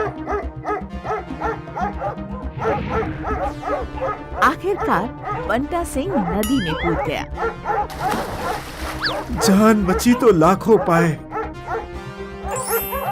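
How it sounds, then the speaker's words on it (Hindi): Stray dogs bark repeatedly in a quick, loud, overlapping stream throughout, heard beneath a narrator's continuous storytelling voice. "कुछ देर बाद आवारा कुत्ते वहाँ से चले गए।"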